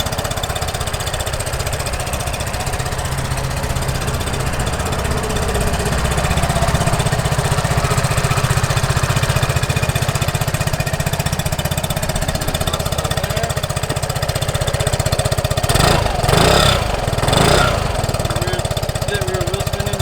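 A 2015 Vespa Primavera 150 automatic scooter engine runs steadily at idle with the rear wheel spinning, a continuous close rattling drone, with a few brief louder bursts near the end.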